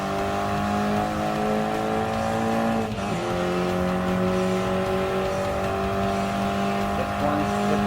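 Race cars in Gran Turismo Sport lap the Red Bull Ring on the second lap, engines droning steadily at high revs with layered harmonic tones, a brief dip and shift near the middle as throttle is relaunched to hold the draft.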